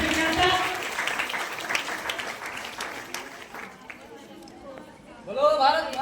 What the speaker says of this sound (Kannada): ದಯವಿಟ್ಟು ಜೋರಾದ ಚಪ್ಪಾಳೆಯೊಂದಿಗೆ